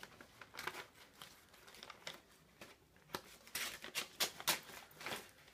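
Scissors cutting and crinkling plastic packaging from an unboxing of loom rubber bands, quiet close snips and rustles in irregular bursts that grow denser and louder near the end.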